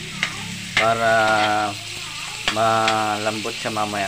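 Cabbage and onion leaves sauté in a hot pan for an Ilocano pigar-pigar dish, a steady close sizzle with stirring scrapes, while someone talks over it at intervals.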